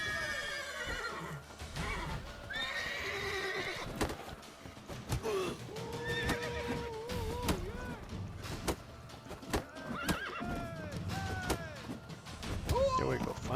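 Roach, a horse in The Witcher 3: The Wild Hunt, whinnies several times amid hoof clip-clops, clanks and combat noises, with a voice talking over parts of it.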